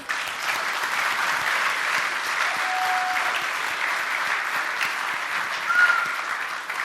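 An audience at the Gutter Summit 2025 keynote breaks into steady, sustained applause that holds at an even level for the whole stretch, with a faint whistle or cheer rising briefly near the end.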